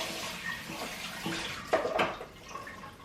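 Food is rinsed under a running kitchen tap, water splashing and gurgling fairly close with uneven bursts as the items shift in the stream, no speech.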